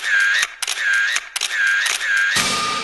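Camera shutter clicks close up in an animated scene, each firing with a sharp snap, over a high whining tone between the shots, ending in a broader burst of noise.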